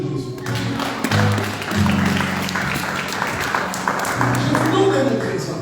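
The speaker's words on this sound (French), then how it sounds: "Applaudissez pour Jésus." A church congregation claps for Jesus during a French-language sermon, a steady, dense wash of applause running throughout, with a voice and musical tones layered over it.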